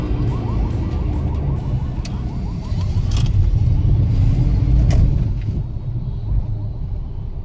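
A Daewoo Matiz rolls into a petrol station, its engine giving a steady low rumble with light mechanical clatter that swells midway and then eases off.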